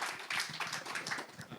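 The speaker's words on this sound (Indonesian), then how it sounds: "Tepuk tangan buat Adis." Short burst of scattered audience clapping at a bookstore gathering, thin and fairly faint, with a few distinct claps over roughly a second and a half.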